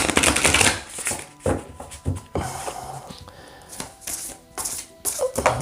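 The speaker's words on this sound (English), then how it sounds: "So I'm just going to shuffle them here." Oracle cards are shuffled by hand in quick, crisp riffling bursts and soft slides, close and fairly loud, with brief pauses between rounds.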